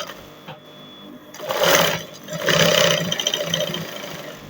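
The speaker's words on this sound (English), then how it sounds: "the next thing I'll be doing is to sew." A sewing machine stitches the lining of a beaded lace jumpsuit in two bursts of whirring, a short one and a longer one, close and clear with a quiet pause between them.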